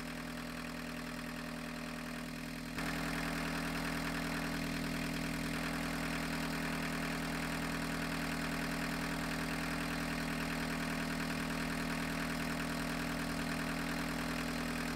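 An abandoned 1985 Volkswagen 1.6L diesel engine idles steadily with a low, even hum and faint rattling, growing slightly louder after a few seconds and then holding constant.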